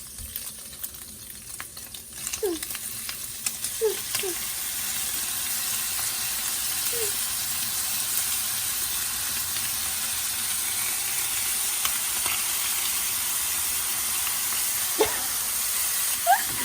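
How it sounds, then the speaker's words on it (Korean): Kimchi and rice stir-fry in a pan with a steady, hissing sizzle, broken by scattered scraping knocks of a utensil across the pan. "어느 정도 볶고 김치를 볶아"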